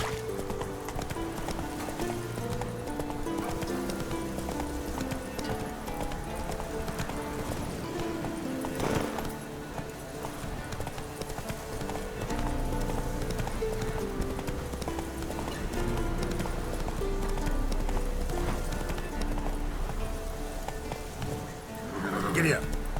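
Horse galloping in The Witcher 3, rhythmic clip-clop of hooves running on and on, with music and a voice urging the horse on over the hoofbeats.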